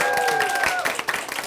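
An audience applauds a guest speaker arriving to give a traffic safety presentation, a dense wash of clapping with a few raised voices and cheers mixed in, tapering slightly toward the end.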